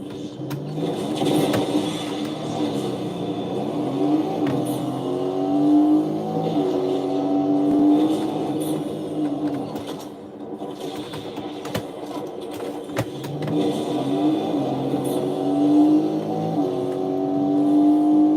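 A truck engine in a video game revs and drones steadily for many seconds, its pitch rising and falling in repeated cycles, loud and close with no speech.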